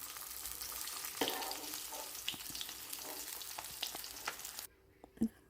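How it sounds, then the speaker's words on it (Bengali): Fish fries in oil in a pan for a Bengali mustard fish dish, giving a soft, steady sizzle with light crackles and a few clinks. It goes quieter near the end. "এখন আমি মাছটাও তুলে নেব মাছটা কারণ আমার মাছটা ভাজা হয়ে গেছে"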